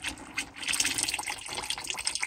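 Dirty water pouring and trickling out of a tractor, a steady splashing gush with irregular drips and spatters, close and continuous.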